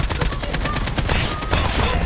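Rapid bursts of gunfire from the video game Call of Duty crackle steadily across the whole stretch, loud and dense with no pauses.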